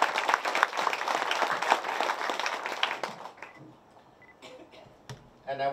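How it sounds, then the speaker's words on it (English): Audience applause for a school, dense clapping that holds for about three seconds then thins into scattered claps and faint room noise, ending with a brief burst of sound. "So let's give them a round of applause."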